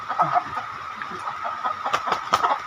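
Chickens, including a rooster, cluck nearby in short, repeated bursts, with a few sharper, louder squawks near the end.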